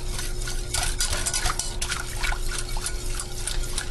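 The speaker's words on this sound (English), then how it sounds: "We don't want this to sit too long without stirring it, because the flour that's in there is going to start to thicken this mixture up" Condensed cream of broccoli soup mix thickened with flour is stirred in a pot, giving soft, continuous wet sloshing and scraping strokes against a steady low kitchen hum.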